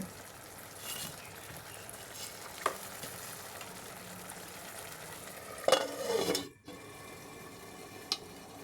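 Spices with ginger and garlic fry quietly in a pan for a beef dish, a soft continuous sizzle broken by a few scrapes and clinks of a spoon stirring, one louder scraping burst near the end.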